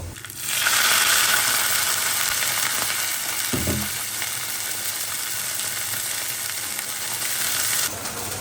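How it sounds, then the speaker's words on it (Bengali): Onions sizzle and fry steadily in hot oil in a pan, a loud continuous crackle, with a brief hiss and spatter midway as a little water is added; no talking. "পেঁয়াজ ভাজা হয়ে গেছে ব্রাউন কালার চলে আসছে"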